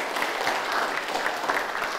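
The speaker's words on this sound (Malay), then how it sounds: "Okey, tepuk tangan untuk diri kamu." Classroom students clap for themselves in a short burst of steady, even applause, many hands together at moderate loudness with no talking over it.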